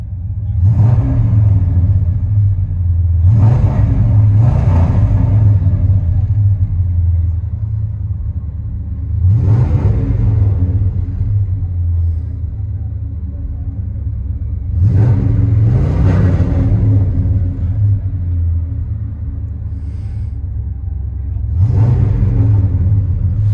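A 1988 Chevy 3500 pickup with a 454 big block V8 and true dual Flowmaster Super 10 exhaust idles with a deep, loud rumble, punctuated by about six sharp throttle blips spaced several seconds apart.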